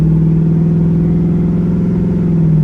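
An LS V8-swapped Toyota Prius pulls hard on its first drive with a new transmission, a loud, steady low engine drone with a rough pulsing growl heard from inside the car, without voices.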